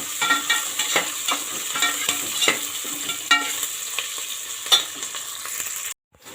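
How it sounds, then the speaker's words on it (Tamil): Onions saute in a pan for mushroom biryani, a moderate crackling sizzle punctuated by repeated rhythmic spatula scrapes and stirs, with no one talking and a short cut-out near the end. "வெங்காயம் வந்து வதங்கட்டும்."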